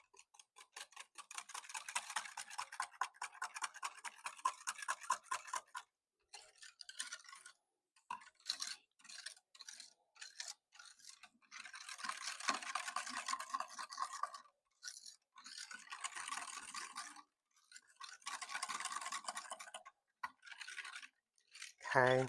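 Whisk lightly stirring pudding powder mix in a bowl, a rapid scratchy rhythmic swishing in repeated close bursts with brief stops between them.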